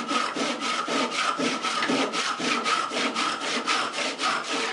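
A cheap tenon saw cuts through wood with a steady run of close, rhythmic rasping strokes, about four per second, alone and fairly loud.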